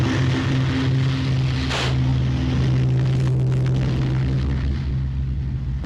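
A Hawker Sea Fury's piston engine roars at high power during a carrier catapult launch, a loud, sustained droning growl with a sharp whoosh partway through as the aircraft is flung forward.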